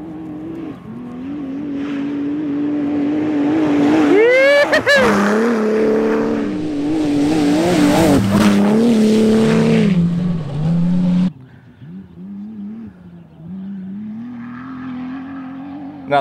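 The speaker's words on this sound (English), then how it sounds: "Here comes the buggy." An off-road racing buggy on the Finke desert track roars past close by, its engine revving hard and climbing in pitch at the peak, then drops away suddenly and fades into a distant hum.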